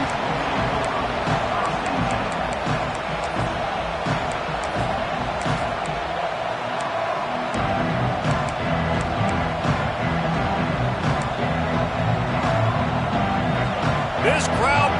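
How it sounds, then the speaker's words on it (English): Stadium crowd at a college football home game against Texas A&M, a dense, steady roar filling the whole stretch with swelling cheers; a commentator's voice runs over it throughout. "This crowd bringing the energy and noise early."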